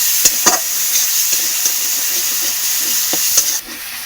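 Chili frying in hot oil in a wok, a continuous bright sizzle with a few sharp spatters and pops, close and fairly loud, with no voices.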